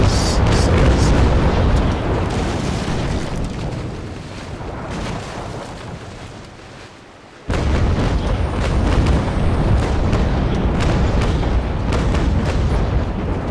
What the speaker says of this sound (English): Yet another broadside.